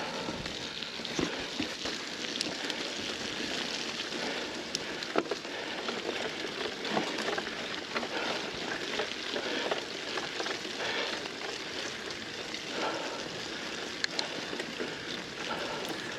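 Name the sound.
rain falling on a muddy trail during a bike race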